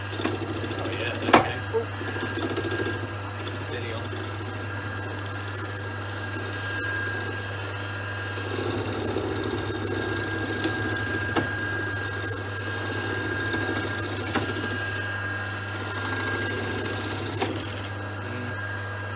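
A wood lathe hums steadily at a low pitch while turning a small bowl, with a gouge scraping and cutting intermittently over it, close, and a person talks at times.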